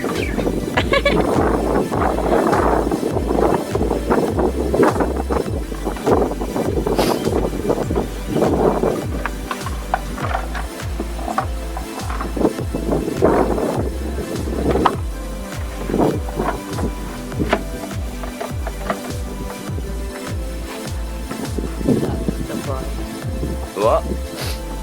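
Strong, cold wind buffets the microphone in long loud gusts outdoors, roaring continuously with bursts of rumble, while someone speaks to a little girl beneath it.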